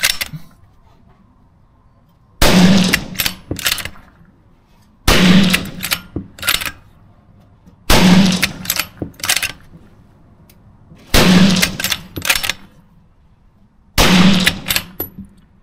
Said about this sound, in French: c'est parti pour deuxième série de tirs rapides